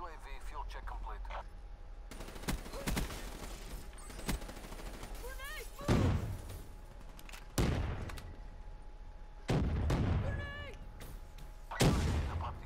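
Call of Duty Black Ops 3 multiplayer combat with several loud bursts and booms, one of them a grenade explosion, spaced over a dim background of scattered game sounds and radio-style voice lines.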